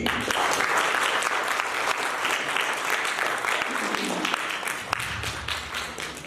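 A theatre audience applauds an actor at a stage drama performance, steady dense clapping filling the hall throughout before thinning slightly near the end.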